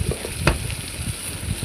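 Okra tempered with chilli powder sautéing in a pan, a steady close sizzle with soft stirring scrapes and one brighter clatter midway, no voices.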